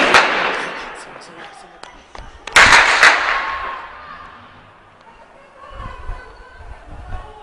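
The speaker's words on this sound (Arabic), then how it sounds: "قصف على المباني عشوائي قصف على المباني قصف بالهاون وقذائف الار بي جي" Heavy blasts from mortar and RPG shelling of buildings in Homs, Syria: a burst of sharp cracks followed by a loud boom that rolls and echoes away, with people's voices and crowd noise around.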